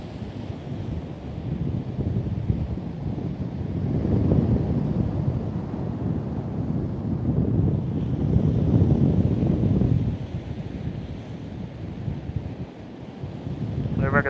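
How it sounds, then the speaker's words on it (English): A strong northerly wind blows on Trimingham Beach in Norfolk at around 40 mph, roaring and buffeting the microphone in heavy low rumbling gusts with surf blended underneath. "nasty northerly wind"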